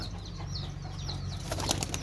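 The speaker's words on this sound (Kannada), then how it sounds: "ನೋಡಲ್ಲಿ ಬಿಳಿ ಪಾರಿವಾಳ" White pigeon wings flap in quick soft bursts nearby, a fluttering rustle that grows busier toward the end over a low steady hum.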